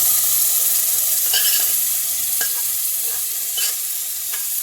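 Condensed milk and rabri are stirred into a sweet Sindhi vermicelli mixture in a pan, a loud, close, steady hiss with occasional soft scraping strokes of the spoon, no voices present.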